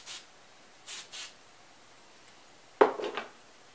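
Hairspray misted onto hair while setting a low ballroom bun: three short, close hissing bursts, followed by a brief clatter, with no talk.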